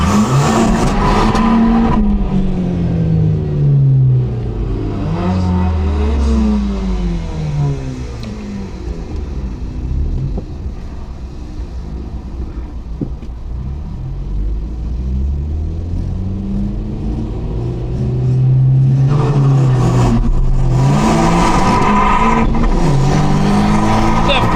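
Cars roar through a 200-meter drag race at a Race Wars event in Zolder, including a BMW 114i, with engines repeatedly revving and surging loud and close while a voice talks over them.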